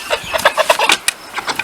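A chicken clucks softly and repeatedly while standing on a scale at a summer homestead, close and fairly loud, with short rhythmic calls and no talking.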